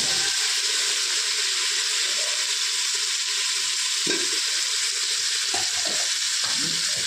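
Drumsticks, radish and carrot fry in hot oil with a loud, steady, close sizzle, broken by a few soft thumps of stirring.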